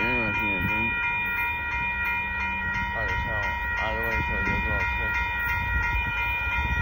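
A northbound BNSF intermodal freight train with a mid-train DPU rumbles steadily past at a road crossing in Austin, Texas, loud and continuous, while people talk nearby over the noise.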